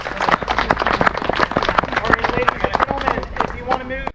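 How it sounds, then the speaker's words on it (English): Outdoor crowd at a Fort Velasco Day historical demonstration claps for the performers, a close, uneven burst of many individual hand claps with voices mixed in underneath. "So if y'all will give these guys a round of applause, and thank y'all."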